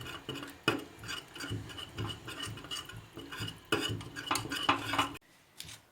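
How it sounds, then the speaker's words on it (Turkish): A spoon scrapes and clinks against a pot while Turkish frigo pudding is stirred after margarine is added, a steady close rhythm of rubbing and metallic taps that stops abruptly near the end. "Şimdi margarini koyuyorum. 5 dakika daha karıştıracağım."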